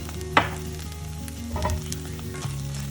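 Sizzling spicy chicken filling for bakery-style puffs crackles steadily in a pan as tomato ketchup goes in, with a sharp clink near the start and a brief stirring scrape later, close and moderately loud.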